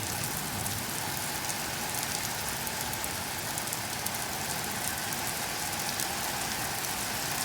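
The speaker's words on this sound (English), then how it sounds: "It's unbelievable how hard it's raining." Torrential rain pours down in West Mifflin, Pennsylvania during a storm, a loud, constant roaring hiss of water pounding surfaces close by, unbroken throughout with no voices.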